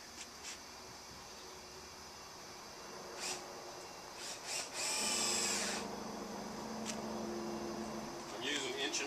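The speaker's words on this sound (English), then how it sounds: "I'm going to run a few screws in here" Power drill driving 1.5 to 5/8 inch gold construction screws into wall sheathing on a house frame. Short whirring bursts build to a loud sustained screw-driving whine, with a faint voice in places.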